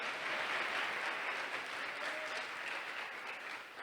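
Church congregation applauding, a dense, even wash of many hands clapping at moderate distance, sustained throughout without pause.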